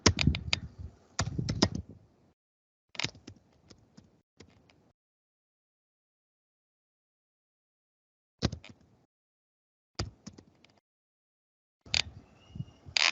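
Bursts of computer keyboard typing, quick clusters of clicks separated by pauses, close and fairly quiet.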